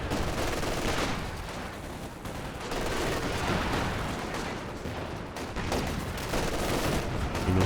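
Rockets and rapid gunfire rage in a Company of Heroes 2 3v3 World War II battle, a dense, continuous barrage of overlapping shots and blasts with no let-up for the whole stretch.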